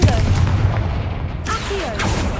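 A Confringo explosion spell goes off in the video game Hogwarts Legacy, a dense booming blast with rumbling low end that carries on loudly through the whole moment, with game voices mixed in.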